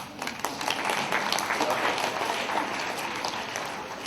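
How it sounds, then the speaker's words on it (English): An audience claps for a speaker at a student interview-preparation talk, a dense, continuous patter of many hands at steady volume throughout the short stretch. "You can clap for me now."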